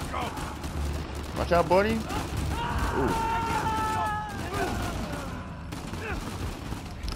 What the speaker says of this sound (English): Am I just shooting everybody? Or everybody with a gun?